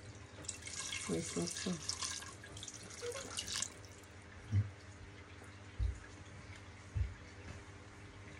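Water runs from a tap into a cooking pot to cover milkfish for Spanish-style bangus sardines, a broad splashing stream for the first few seconds, then a few separate drips and knocks, with a voice speaking briefly.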